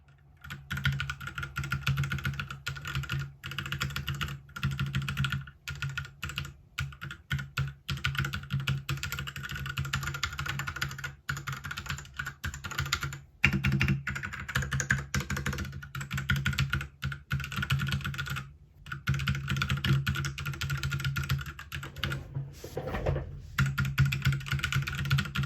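Old mechanical keyboard with its keycaps removed, typed on at a steady pace: dense, clacky keystrokes with a clangy undertone and brief pauses between bursts, close and fairly quiet.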